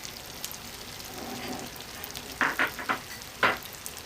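Rice sizzles steadily in a pan with salt and cumin, with a soft continuous fry under a few distinct scraping taps of a spoon being stirred through it near the end.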